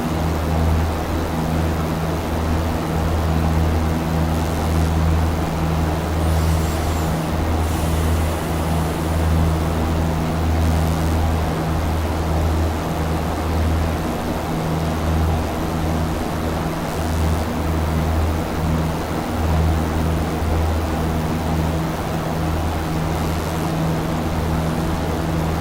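Cirrus single-engine aircraft in steady cruise in X-Plane 11, a constant low droning engine hum with a deep rumble, unchanging and continuous throughout, with no voices.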